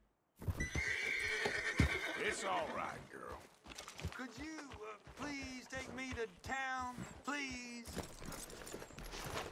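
A horse in the Red Dead Redemption II video game neighs and whinnies repeatedly over clip-clopping hooves, loud and close, with a steady game soundscape underneath.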